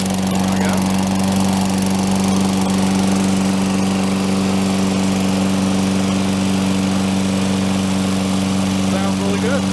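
A Toro Recycler 20072 walk-behind lawn mower engine runs steadily and close by, a loud, even drone with a strong low hum that holds for the whole stretch without pause.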